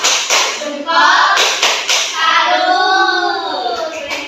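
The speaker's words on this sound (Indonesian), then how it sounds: "Baik, tepuk salut." Schoolchildren in a classroom perform the rhythmic 'tepuk salut' clapping pattern, a few sharp grouped claps mixed with their loud chanting voices close by.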